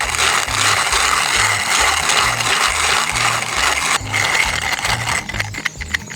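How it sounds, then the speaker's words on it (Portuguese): Seventeen and a half grams of coffee beans are ground to a medium grind for a French press, giving a loud, close, rhythmic grinding and cranking that repeats in even strokes without pause. "agora é só moer esse café"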